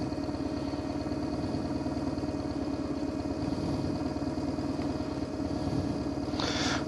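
A BMW R1100GS boxer-twin motorcycle engine idles steadily outdoors, a loud, even, rhythmic thrumming that runs alone throughout with no talk.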